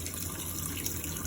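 Steady rush of running cold tap water splashing continuously, close by and fairly soft, with no voices.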